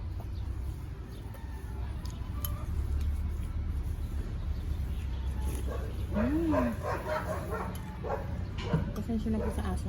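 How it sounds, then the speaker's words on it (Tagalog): A dog barks a few times in the distance over steady background noise at an outdoor garden meal, with a voice and passing traffic mixed in. "Pasensya na po sa aso."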